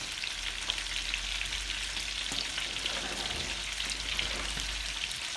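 Carrots, cabbage and onions sizzle in a hot pan, a steady, fairly faint crackling hiss like light rain, continuous over a low hum with a few soft stirring ticks.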